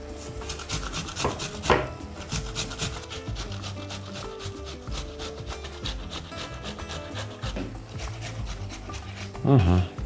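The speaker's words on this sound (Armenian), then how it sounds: "Քերում ենք մեծ անցքերով։" Ripe tomatoes are grated for ratatouille sauce on the large holes of a coarse grater, a steady rasping rub heard close up beneath a person talking throughout, ending with a louder thud.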